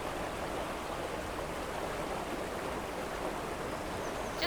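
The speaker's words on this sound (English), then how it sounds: "I think the river bends up ahead. Awfully rough water." Rough river water in a video game rushes in a steady, broad, hissing wash, continuous and fairly faint, with no voices.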